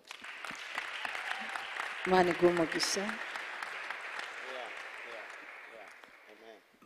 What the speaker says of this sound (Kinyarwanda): muha amashyi cyane